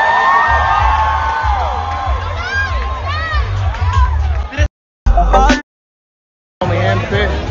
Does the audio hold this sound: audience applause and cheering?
yes